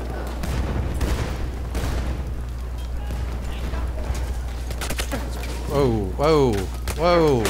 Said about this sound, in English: He's just spamming his MG through the doorway.